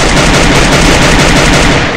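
Rapid automatic gunfire in a video game while shooting at an enemy, a dense, loud, continuous burst of close shots running for about two seconds with no pauses.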